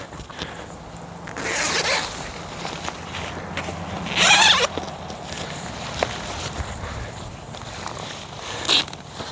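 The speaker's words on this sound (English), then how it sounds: "I guess we can have this zipper up." Zipper on a hunting blind being zipped, a few short rasping pulls close by, the loudest one in the middle and a brief final tug near the end, among light handling rustle.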